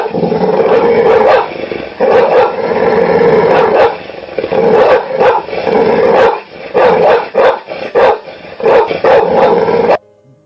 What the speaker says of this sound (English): The dog burst into a barking, growling warning